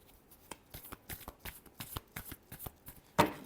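Tarot cards are shuffled by hand in a quick run of soft, crisp flicks and slaps, ending with one sharper snap.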